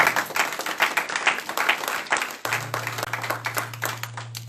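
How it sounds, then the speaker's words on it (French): A church congregation at a Sunday service applauds and cheers in a sustained mass of clapping that runs the whole time, dense and fairly close, with a low steady hum entering halfway through. "J'aimerais que tu acclames le Seigneur."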